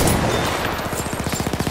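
A Selbstlader M1916 rifle fires in Battlefield 1 amid a clamor of battlefield gunfire, ending in a quick run of rapid, evenly spaced shots, loud and close.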